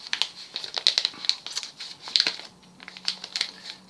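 A mailing envelope from China is handled and crinkled up close, giving a run of crisp, irregular crackling and rustling bursts with short pauses between them.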